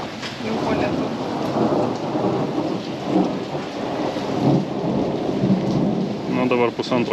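A thunderstorm in Sicily brings a heavy, steady downpour with low rolling thunder rumbling throughout, close and dense, with a brief voice near the end.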